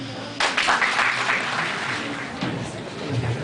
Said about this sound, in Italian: anche a voi va un applauso